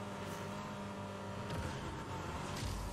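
Pursuing cars roar behind in a video game race, a continuous dense engine drone with a rising rev near the end, moderately loud and steady.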